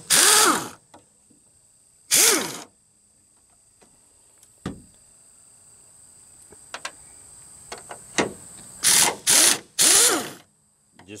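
Ratchet clicking in several bursts while loosening 13mm strut bolts on a Chevy Cobalt during a front strut replacement, with two early runs, a quiet stretch of faint handling noise, then three quick bursts close together near the end; no talk.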